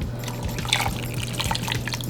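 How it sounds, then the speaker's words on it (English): Water being poured into a pot of collard greens with smoked turkey leg and pinto beans, a continuous close splashing and gurgling stream of liquid filling the pot. "Put some water in there."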